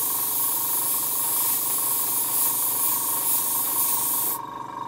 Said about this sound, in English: lightly airbrush